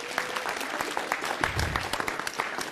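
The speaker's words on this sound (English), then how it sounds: "Give them a great big round of applause," A city council meeting audience applauds a girls' team and their coach, many hands clapping in a sustained, even roar with a low thump partway through and a murmur of voices underneath.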